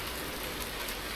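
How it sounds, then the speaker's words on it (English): Steady rain in the Farming Simulator 19 video game, a dense even hiss of drops on surfaces, constant and moderately loud with no other sounds. "even though it's raining, we still have to get ready for tillage"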